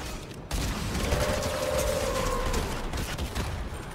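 Dense, continuous gunfire from a shooter video game, a steady wash of rapid shots with a brief tonal whine through the middle, loud and sustained throughout with no talk.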